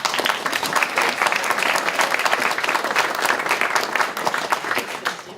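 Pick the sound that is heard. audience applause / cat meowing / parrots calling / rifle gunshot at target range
audience applause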